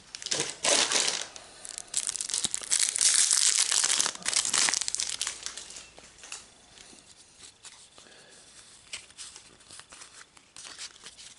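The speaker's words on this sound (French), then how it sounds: "8 boosters à ouvrir." Foil wrappers of Magic: The Gathering Jumpstart booster packs are torn open and crumpled. Loud crinkling and tearing dominates the first half, then settles into quieter, intermittent rustling with no talking.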